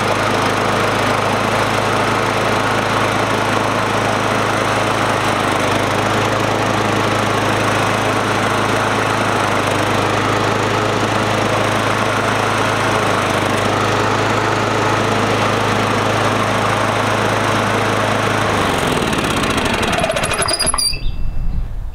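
A Ybravo 21-inch commercial lawn mower runs close by with a loud, steady engine drone for most of the stretch, then cuts off abruptly near the end.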